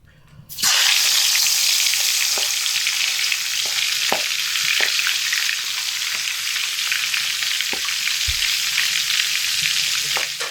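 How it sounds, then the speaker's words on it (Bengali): Fish heads drop into hot oil and burst into a loud, dense crackling sizzle that holds steady for about ten seconds, with a few faint knocks beneath it. "গরম তেলের মধ্যে মাছের মাথাগুলো দিয়ে লাল লাল করে ভেজে নিচ্ছি।"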